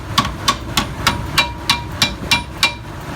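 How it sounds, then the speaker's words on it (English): A hammer taps a wheel bearing hub into place on a GMC Sierra 1500, about nine sharp, evenly spaced metallic strikes, close and clear with no talking. "Just tap it in. Give it a little tappy."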